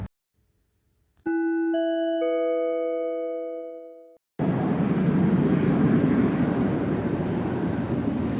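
An Alaska Airlines plane passing overhead: after a sustained multi-tone chime that fades, a broad, steady roar of aircraft engine noise takes over and holds loud to the end.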